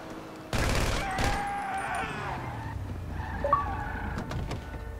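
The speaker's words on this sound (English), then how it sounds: "They're shooting at me." A burst of gunfire rings out in GTA Online, followed by scattered shots amid car engine noise and clattering vehicle sounds during a chaotic in-game chase.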